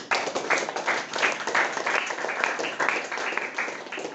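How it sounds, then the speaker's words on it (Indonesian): A classroom of students claps for a classmate named Bari, giving a brisk, continuous round of applause with uneven bursts that holds steady for about four seconds. "kita berikan aplaus kepada saudara Bari"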